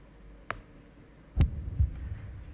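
A heartbeat effect from the Golf Clash golf video game gives a couple of soft, low thumps close up, following an earlier brief click.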